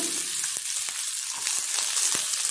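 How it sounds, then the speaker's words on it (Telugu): Onion frying in very hot oil, a loud continuous crackling sizzle with sharp pops scattered throughout, close up and with no voices. "ఆనియన్ వేసాను."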